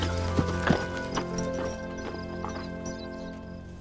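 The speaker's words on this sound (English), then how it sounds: "Once up, Comanche was led about 15 miles to where the steamer Far West was moored." Horse hooves clip-clopping as the horse Comanche is led along, several distinct hoof strikes early then softer steps fading, with a low steady background hum.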